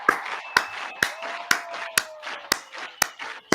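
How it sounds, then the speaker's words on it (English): Crowd clapping in rhythm at a Washington Commanders vs Philadelphia Eagles football game on third down, sharp regular claps about every half second, loud and unaccompanied. "Let's get that third down clapping going."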